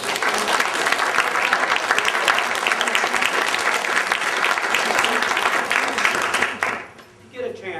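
A live audience at a West Virginia heritage music show claps for a young fiddle player, loud, dense, sustained applause that cuts off abruptly near the end.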